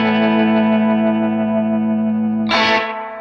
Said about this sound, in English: that's the on-board reverb